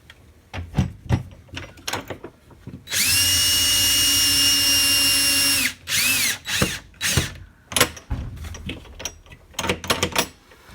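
Power drill tightening screws on a Latch It keyless entry lock, a loud steady whir lasting nearly three seconds, then short bursts, surrounded by clicks and handling knocks.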